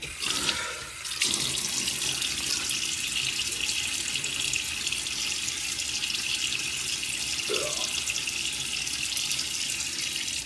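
Tap water runs steadily into a sink, a loud continuous close rush with a brief splash near the start, while a man wets his face before a shave; no talking.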